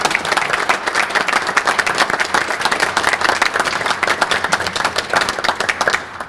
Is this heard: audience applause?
yes